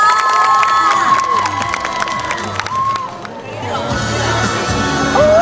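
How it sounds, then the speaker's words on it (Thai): A crowd at an expo cheers and applauds for an AF4 singer, high shrieks and excited shouts over a mass of clapping and chatter, loud and close throughout. "ขอเสียงปรบมือดังๆเลยค่ะ ให้นัก AF4 ค่ะ"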